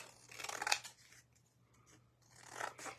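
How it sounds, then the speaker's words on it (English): Scissors trim excess scrapbook paper from a decoupage Christmas craft piece, with close, crisp snipping and rasping cuts in two bursts separated by a quiet pause. "I am literally getting every bit of that excess off with the scissors"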